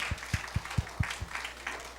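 A church congregation claps during a worship service, a run of six steady, evenly spaced claps that then fades into a soft murmur of the room, with no one speaking.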